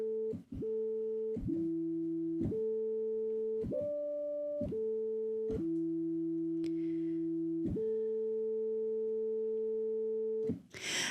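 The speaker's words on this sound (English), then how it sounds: "Okay, so basic sine wave, nice and soft. It has like no harsh edges to it." A soft, pure electronic tone holds steady, stepping between a few pitches in sustained notes with brief breaks, smooth and clean with no harsh edges.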